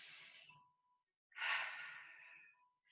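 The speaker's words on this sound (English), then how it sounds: "Take a deep breath" Two audible breaths, a long inhale-like rush then a deeper airy exhale after a short silence, close to the microphone, no talking.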